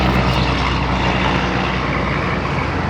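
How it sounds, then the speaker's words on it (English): A loud old Peterbilt truck rumbles past close by, a heavy, steady engine roar with deep low-end drone that stays strong for about three seconds. "One of them loud old Peterbilts."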